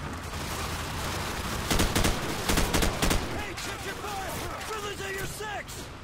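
Call of Duty 4 multiplayer gunfire, several sharp rapid bursts of automatic fire in the middle, loud and close, over a constant battle ambience while a player talks.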